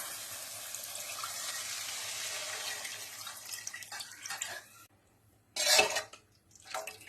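Buttermilk pours into a hot pan of fried onions with a steady rushing hiss, briefly quiet, then a sharp splashing sizzle burst and a shorter follow-up splash.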